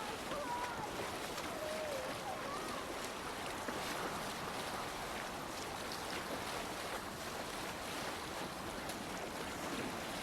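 Viking longship sailing over open sea in Assassin's Creed Valhalla: a steady, unbroken wash of waves and wind runs the whole time, with soft splashing rising and falling and no spoken words.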